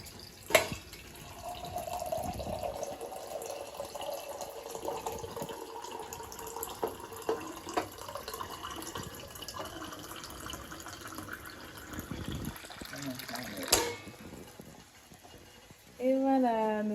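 Water pours from a Purewell gravity filter into a drinking glass, a faint, steady trickle with a few small splashes and clinks, while a person speaks over it at times.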